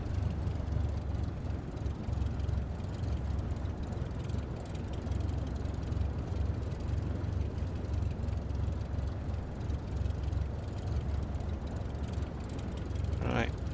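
A light aircraft taxiing past parked planes in the MS Flight Simulator 2024 game, its engine a steady, even drone and rumble throughout with no break.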